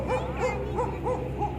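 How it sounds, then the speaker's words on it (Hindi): Village dogs in rural Pakistan bark in quick repeated yips and yelps, about five short calls in a steady rhythm, heard over a low rumbling background. "ये हमारी बस्ती के कुत्ते हैं जो हमारे इस्तकबाल के लिए भौंक रहे हैं।"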